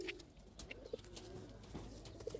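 Pigeons kept for flying and sale coo a few times, soft and fairly distant, with short murmuring calls scattered over steady background noise.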